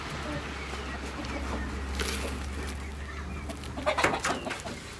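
Hens cluck and murmur close by in a farmyard, soft repeated calls over a steady low hum, with a louder burst of clucking near the end.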